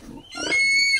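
A pig grunts and squeals in a pig pen, a short rough grunt followed by a higher, rising squeal, close and loud, with no talk over it.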